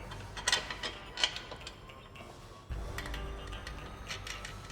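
A ratchet snugs M10 nuts on a windshield bracket for a Can-Am Maverick, quiet rapid clicking and ticking in short bursts, close but faint, with no voices.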